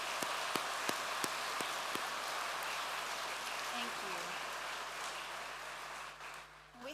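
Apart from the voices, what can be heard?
audience applause at graduation ceremony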